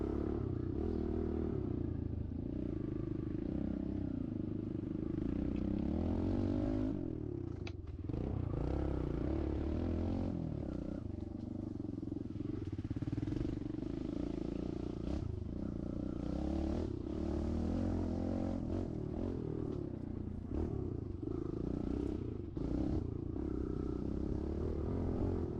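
Small KTM TC 50 children's dirt bike droning through deep sand, a continuous buzzing engine note that wavers and strains, with occasional clatter, heard steadily from a moderate distance.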